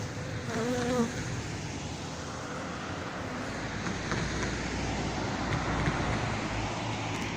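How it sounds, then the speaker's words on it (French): A dense, steady buzz of a honeybee swarm close by, continuous throughout with no voices. "Les abeilles me repoussent un petit peu, mais gentiment."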